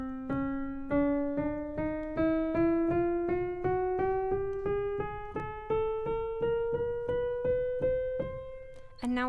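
Synthesized tones stepping upward through the second octave of the 11th harmonic series, a steady sequence of evenly spaced plucked notes rising in pitch by ever-smaller steps, clear and alone.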